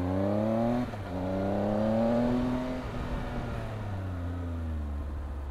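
A Triumph Speed Triple RS big-capacity motorcycle engine pulls from low revs, a steady humming drone rising in pitch, dipping at a gear change near one second, then climbing again under wind rush.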